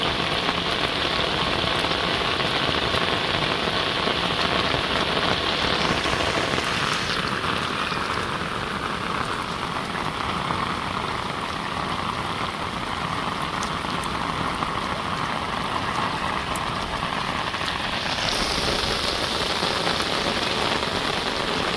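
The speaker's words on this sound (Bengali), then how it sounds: "কত সুন্দর বৃষ্টি।" Steady, heavy rain pours over a Bangladeshi village, a dense continuous hiss of drops on surfaces that stays loud and even throughout, with no voices.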